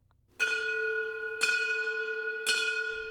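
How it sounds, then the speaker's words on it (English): Opening bell for the new NGA campus in St. Louis Place, three loud ringing strikes about a second apart, each leaving a long bright resonant tone that overlaps the next, heard alone. "That's the opening bell for the new NGA campus"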